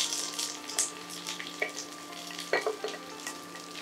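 Chopped tomatoes frying with ginger and garlic in a pan for country chicken curry, a close, steady sizzle broken by scraping stirs and soft clatter of the spoon against the pan.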